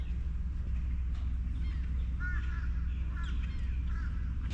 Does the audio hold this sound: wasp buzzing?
no